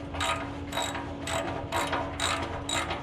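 Ratchet wrench clicking in six quick bursts as it works loose a tight exhaust clamp on a Jeep JK muffler, close and alone with a steady low hum underneath.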